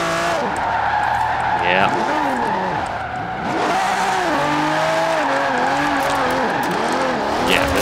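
A stock 1968 Ferrari 365 GTB/4 drifting in Forza Horizon 4, its engine note rising and falling in long wavering sweeps as the tyres squeal through the slide, loud and continuous, with a voice briefly speaking over it.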